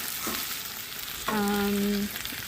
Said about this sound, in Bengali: তো এখানে দেখো আমার চিকেনটা প্রায় কষে এসেছে